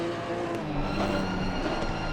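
Porsche Cup race car number 16 on circuit in a 2017 series race, a sustained engine whine with slight pitch wobble and faint tire noise, steady and fairly loud with no talk.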